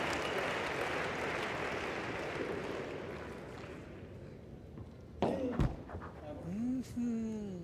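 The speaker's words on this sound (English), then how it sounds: "The whole stadium, the court. Clap with the hands." Stadium crowd clapping at a padel final, a dense wash of applause filling the first five seconds and then fading as thumps and a voice cut in.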